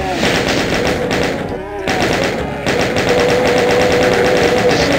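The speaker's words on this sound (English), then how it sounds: "Now, we'll use the chain gun real quick." Chain gun in the classic shooter TNT Evilution blasting in a rapid, continuous stream of loud shots, with a short lull before the firing resumes and continues steadily, while a person talks over it.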